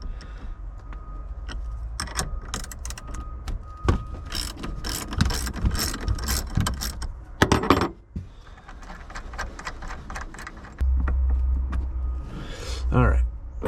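Bolts on a car battery bracket in a C55 AMG being loosened with a ratchet, giving rapid metallic clicking and clattering bursts, with a brief pause and some tool handling noise near the end.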